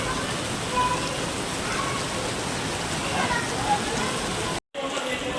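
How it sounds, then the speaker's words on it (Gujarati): A heavy downpour outdoors at Science City in Ahmedabad, a thick, continuous roar of rain hitting the ground nearby, steady from start to finish apart from a short gap near the end. "વરસાદ તો ફૂલ આવે છે."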